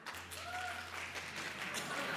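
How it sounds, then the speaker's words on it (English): A conference audience at a talk on trust gives tepid, faint clapping. A low steady hum runs underneath. "clap now"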